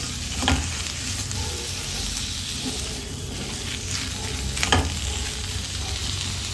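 Onions frying in a pan for egg chilli, a loud continuous sizzle with a couple of brief stirring knocks, close up and without talk.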